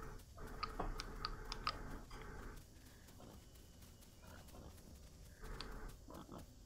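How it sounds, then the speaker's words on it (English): Pig grunting in The Isle Evrima dinosaur survival video game, a cluster of short grunts and squeals early on and another burst near the end, fairly faint, over quiet ambient ticking. "What is that noise? Oh, it's a pig!"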